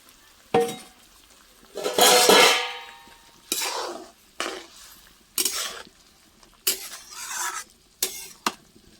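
A spoon stirs fennel, panch phoron and cumin-coriander powder into a sour okra dish in a pan, giving several separate scraping, clattering bursts with short quiet gaps between them and no talk.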